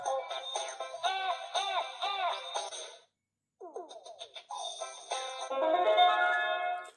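A children's electronic talking book plays a tinny jingle with chiming, bell-like notes and a brief pause midway, then resumes in a brighter burst.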